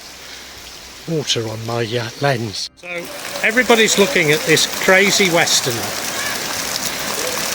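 Rain falls steadily outdoors at a damp dawn, an even hiss of drops on surfaces running the whole time while someone talks over it, with a brief rustle near the middle.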